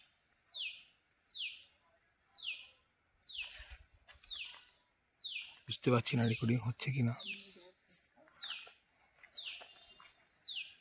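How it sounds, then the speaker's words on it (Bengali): An unidentified bird calls repeatedly in a quiet forest in Simlipal, Odisha, giving a regular series of short, clear, descending chirps. Someone speaks briefly over the calls partway through. "একটা পাখির আওয়াজ শোনা যাচ্ছে,"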